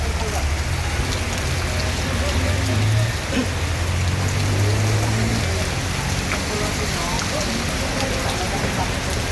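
Heavy rain pours steadily and loudly onto surfaces at a bus station in Palembang, a dense continuous hiss with a low engine rumble beneath it.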